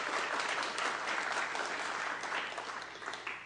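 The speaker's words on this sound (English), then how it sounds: "Give them a round of applause." Room full of people at a Senate committee session on science and entrepreneurship gives a round of applause, a thick, even roar of clapping held throughout and easing a little near the end.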